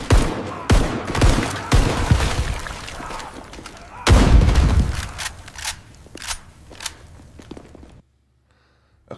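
Shotgun fire in an AI adventure video game set in a hospital: loud, close blasts come in quick succession with rumbling echoes between them, then stop abruptly into near silence.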